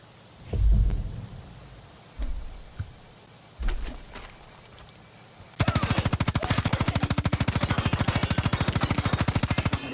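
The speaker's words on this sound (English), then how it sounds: "Shoot a couple holes in his stuff, scare the shit out of him" Gunfire in the Far Cry 5 video game: a few heavy single shots with pauses, then a sustained rapid burst of automatic fire that rattles on loud and close to the end.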